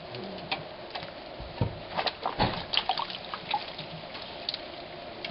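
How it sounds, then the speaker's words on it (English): Soft watery swishing and light dripping as a greasy oven door part is scrubbed in soapy water, close by, with occasional small clinks and taps. "Just good old soapy water is all it takes to clean this part."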